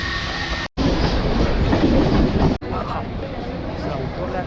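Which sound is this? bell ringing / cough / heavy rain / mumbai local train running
mumbai local train running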